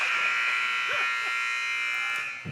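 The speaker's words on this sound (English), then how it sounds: "there's the buzzer ending the first period" A steady electronic buzzer drones loudly over arena crowd noise at a youth ice hockey game, holding for a couple of seconds before cutting off to end the first period.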